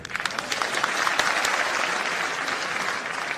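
An audience claps through a speech about teacher transfers and education department demands, a dense, sustained burst of many hands that swells early and then holds evenly, with no voices over it.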